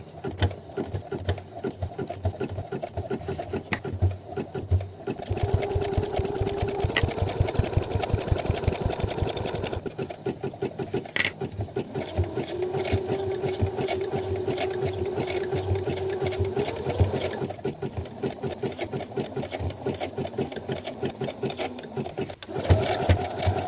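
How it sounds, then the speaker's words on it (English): A sewing machine stitches a zigzag down the center of a stuffed sleep mask, its steady motor whirring in long runs with short pauses between them, close and fairly loud. "I'm gonna sew a zigzag down the center here."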